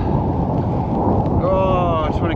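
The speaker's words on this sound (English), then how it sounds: "It's depressing, this wind. It never bloody stops." Strong wind roars steadily against the microphone at a night campsite in the Lakes, a dense low rumble, with a brief tonal whine near the end.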